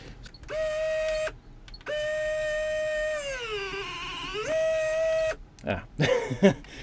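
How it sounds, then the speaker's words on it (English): A scale model winch's small electric motor, running hot off a 2S LiPo battery, whines at a high pitch in steady bursts with short stops, the pitch sagging under load and rising again before brief handling noises at the end. "You can see the hot motor here. It is really fast, which is great."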